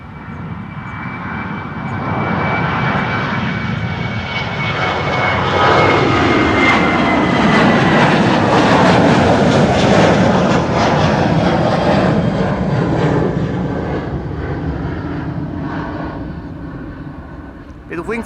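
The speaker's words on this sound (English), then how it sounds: "This is KLM flight 1293 to Billund, 737-800" KLM Boeing 737-800 jet taking off from Schiphol, its engine roar building from a low rumble to a loud, broad peak mid-way as it passes close, then fading as it climbs away, with a voice talking over it.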